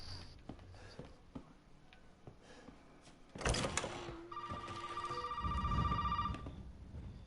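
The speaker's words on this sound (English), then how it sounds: "So we're gonna answer the phone." An old-fashioned telephone bell rings repeatedly in Resident Evil 7, a loud sustained metallic trill that starts after a few seconds of quiet creaks and footsteps, ringing on for several seconds.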